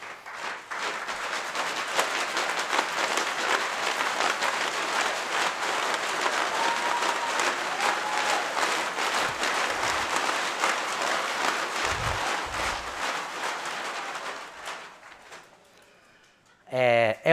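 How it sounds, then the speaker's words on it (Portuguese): A standing ovation in a municipal council chamber during a solemn session, sustained warm applause from a large crowd that dies away, followed by a short loud burst of other sound at the end. "E eu queria que todos nós dessemos uma salva de palmas muito calorosa, e desta vez em pé"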